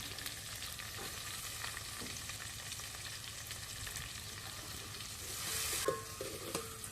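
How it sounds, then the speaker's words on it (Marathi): Finely chopped onion is lightly sautéed in a pan on a wood-fired stove, giving a faint, continuous sizzle with occasional soft stirring scrapes and a brief louder swell near the end. "कांदा हलकासा परतून घ्यायचा आहे"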